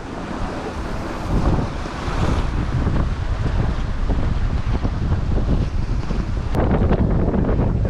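Steady wind roar and rushing water surge past a sailing boat beating into a 15-knot east wind, a continuous broadband buffet that swells slightly after the opening seconds, with a brief sharp click near the end.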